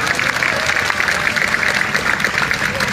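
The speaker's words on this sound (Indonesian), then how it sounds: "Yang setuju berikan tepuk tangan yang beri." A church congregation at an evangelistic revival service bursts into loud, sustained applause, many hands clapping densely and evenly throughout, close and full.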